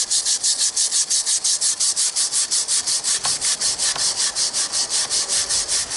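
Wire brush scrubbing rust and crud off a metal magnet fishing find, a rapid steady back-and-forth rasp, loud and close, with no speech.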